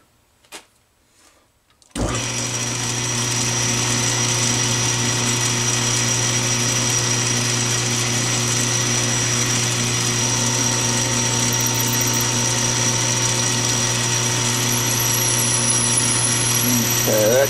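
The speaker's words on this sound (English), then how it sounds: "I'm going to drill them just under 1/4-inch" After a second of quiet, a power drill starts up and runs continuously at a steady, loud whine, close by, until the end, drilling just-under-1/4-inch holes in metal for 1/8-inch pipe threads.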